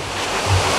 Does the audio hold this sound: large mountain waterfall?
yes